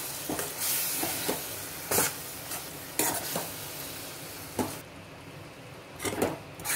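A spoon scrapes and stirs mashed pav bhaji vegetables in a pan over medium heat, giving repeated sharp strokes over a steady frying hiss, close and fairly loud.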